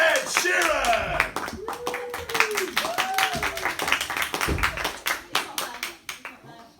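Hand clapping from an audience greeting Ed Sheeran, a steady patter of claps under excited cheering and vocal shouts that thins out toward the end.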